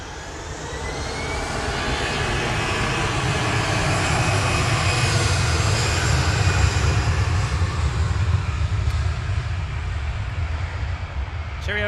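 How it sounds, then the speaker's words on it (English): A Virgin Atlantic Airbus A350-1000 landing at Manchester Airport, a loud, close jet roar that builds over the first few seconds and holds steady, with a voice faintly present. "the Virgin A350 is on short final"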